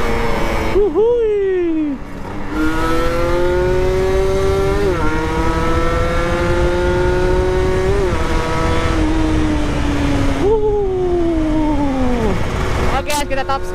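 Kawasaki Ninja RR two-stroke motorcycle accelerating hard at speed, its loud buzzing exhaust climbing in pitch through several gear changes, close up and continuous.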